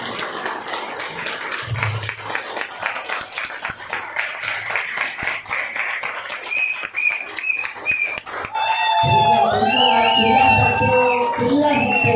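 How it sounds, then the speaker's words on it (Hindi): An audience at a Hindi-language meeting claps steadily for several seconds, close and continuous, before the clatter gives way to brighter tonal sounds near the end. "और एक बार जोर से तालियां और हाथ मिलाएं सबको।"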